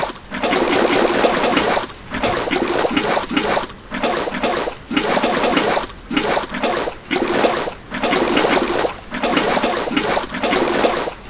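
Water fills a container in the Minecraft video game, heard as loud, rhythmic bursts of gushing liquid, roughly one per second, separated by brief pauses.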